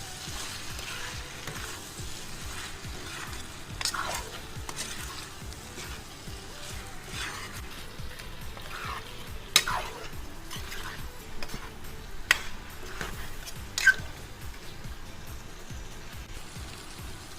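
Mutton curry with chili powder and spices being stirred in a pan for an Assamese-style gravy: a steady low scraping and soft sizzle, with a few sharp utensil clinks against the pan near the end.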